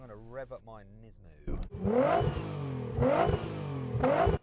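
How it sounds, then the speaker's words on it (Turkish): A Nissan NISMO V6 car engine turns over and catches, then revs hard three times in a row, each loud rising blip falling back to a rough idle, heard close and clear after a brief stretch of talk. "Şimdi Nismo'yu çalıştıracağım."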